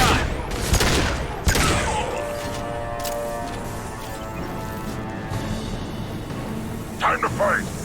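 Gunfire and impacts in the video game Mass Effect 2: a burst of sharp shots and crashes at the start, then sustained combat noise with a few more hits near the end, loud and close.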